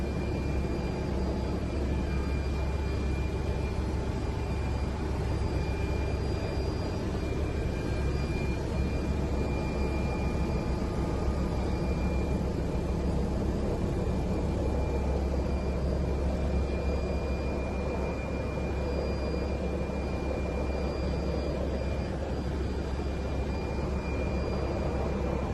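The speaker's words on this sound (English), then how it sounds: "this is a drone, but it sure seems like a helicopter." A drone flies overhead with a deep, steady helicopter-like roar and whine that holds constant and loud throughout, with no voices.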